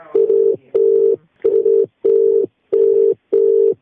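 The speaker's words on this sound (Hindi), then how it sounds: "आइए अब हमारे साथ सीधे फोन लाइन पे DIOAS बलिया रमेश सिंह जुड़ रहे हैं" Telephone line tone on a call being connected, six evenly spaced beeps of a steady pitched tone, loud and alone.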